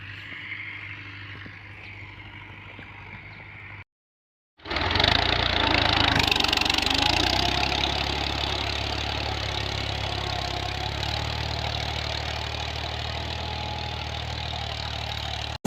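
A Dabang tractor pulling a plough drones steadily after a brief quiet gap, loud and close, with a constant mechanical rumble and no voices.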